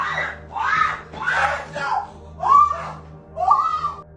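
A panicked woman screams in repeated anguished wails, four or five rising and falling bursts about a second apart, loud and close over a faint steady hum.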